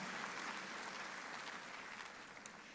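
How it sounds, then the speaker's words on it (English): An audience at a high school graduation ceremony applauds a graduate and her family. The clapping is steady and moderately loud across the hall, easing slightly toward the end. "Let's give a big round of applause to Hannah and her family for a job well done"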